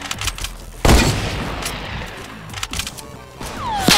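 Gunfire in a sniper shootout video game: a sharp, loud crack followed by scattered distant shots and impacts over a few seconds, with a whizzing sweep near the end, no talking.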